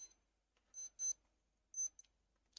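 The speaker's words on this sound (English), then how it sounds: "I forgot to turn off the alarm from the watch" A new wristwatch alarm beeps in short high-pitched bursts, faint and thin in a quiet room, with uneven gaps between the electronic chirps.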